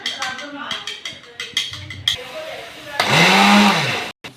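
Milk being whisked into a chicken croquette mixture: light clattering taps, then a loud, steady whirring burst of about a second that cuts off abruptly.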